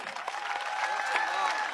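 Brief, fairly faint applause from a school audience, a steady patter of many hands clapping.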